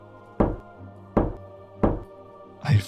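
Three evenly spaced, hollow knocks on wood, each a sharp thud with a short ring, fairly close and clear over a quiet background, followed by a fainter brushing rustle.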